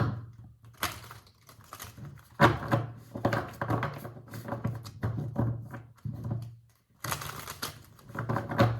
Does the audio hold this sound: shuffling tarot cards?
yes